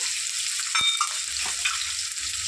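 Green chillies with a little curry leaf frying in a pan for a bottle gourd curry, a steady close sizzle with a single sharp clink partway through and faint stirring scrapes, no voices.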